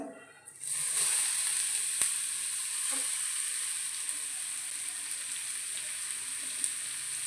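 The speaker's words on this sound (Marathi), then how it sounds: "गाजर चांगल्या तुपामध्ये परतून घ्यायचं" Grated carrot for carrot halwa sizzles in hot ghee with a bright, steady hiss that starts abruptly and holds evenly throughout, marked by a few faint knocks of stirring.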